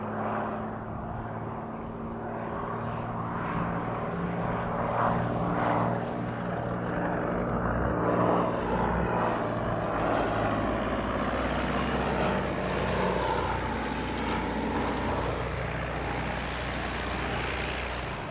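A general aviation propeller aircraft lands at Spirit of St. Louis Airport, its steady engine drone heard at moderate distance, with a low continuous hum and slowly shifting tone throughout.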